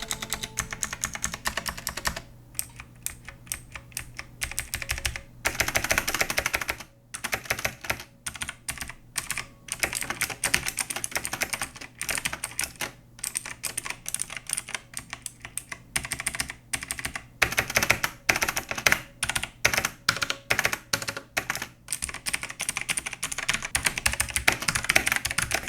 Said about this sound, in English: So as you just heard with the Logitech G Pro X, very crispy, very nice sounding.